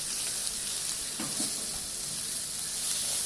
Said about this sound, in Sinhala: දැන් මේ ටික හොඳට කලවම් කරගෙන බැද ගන්නවා.